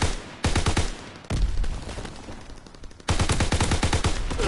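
Loud, close bursts of gunfire from a WWII video game, with sniper rifle fire in the mix, come in three rapid volleys separated by short gaps, with no talking.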